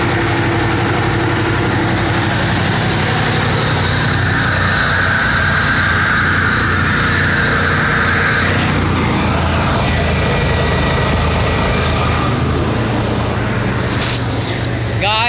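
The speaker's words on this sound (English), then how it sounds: "My fucking engine's so damn loud." Loud, steady roar of a truck engine running in place, a constant heavy drone with a high whine on top, recorded close.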